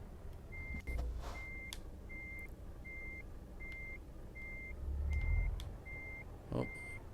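A truck in Euro Truck Simulator 2 backs up with a steady train of evenly spaced reversing beeps over a low engine rumble and a few clunks, with the beeps sounding clearly and no talk.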